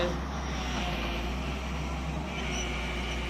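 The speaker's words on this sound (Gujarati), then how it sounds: "ટ્રેક્ટર આપણું ભરાય છે" A heavy tractor engine drones steadily at close range during village earthwork, a continuous low rumble with no pauses or voices.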